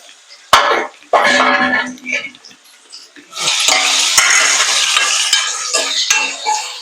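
Boiled yam pieces are tipped into a hot tempering of dried red chillies and asafoetida, then stirred in a pan. Sharp clatters give way to steady scraping and sizzling, with someone talking over parts of it.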